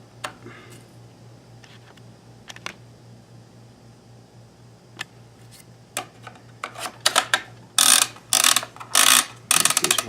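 Winding the knob of a Kenmore 158.1914 monogrammer attachment gives sparse mechanical clicks and ticks at first, then a dense run of sharp ratcheting clicks, close and fairly loud, with no voice over them.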